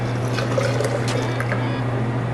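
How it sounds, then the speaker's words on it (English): Milk being poured for matcha crepe batter, a steady liquid trickle and splash in a kitchen over a constant low appliance hum. "we'll put a little bit of milk, and then what I'm going to do is pour that in"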